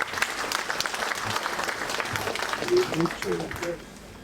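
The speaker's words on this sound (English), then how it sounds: "give yourself a resounding round of applause for this man" A crowd applauds steadily at an address by the Oni of Ife in Nigeria, many hands clapping at once in a dense, sustained burst that swells slightly near the end.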